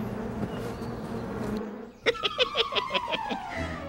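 Bees buzz in a steady insect drone, then a closer bee zips past with a rising, pulsing whir that fades off.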